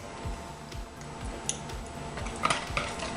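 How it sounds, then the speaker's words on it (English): Peanut butter whisked into a pie filling, heard as a steady, rapid rhythmic tapping and scraping of a whisk against the bowl, close and continuous, with a few sharper metallic clinks and no speech. "Whisk in your peanut butter"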